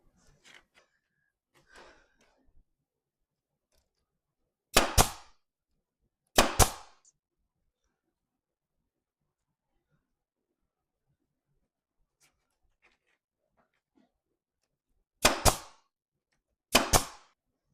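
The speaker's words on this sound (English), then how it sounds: "When your air gun decides that I'm going to put 20 staples in there, I'm leaving it." Pneumatic air staple gun firing staples into a thrift-store French Provincial furniture piece, four sharp loud pops in two pairs, each with a short hiss, over near-silence with faint handling noises.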